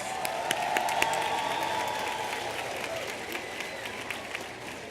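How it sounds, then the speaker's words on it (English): An audience at a 2011 university commencement ceremony applauds graduates' families and friends, a dense sustained wash of clapping with scattered sharper claps and light cheering, slowly tapering near the end. "a round of applause for your family and friends"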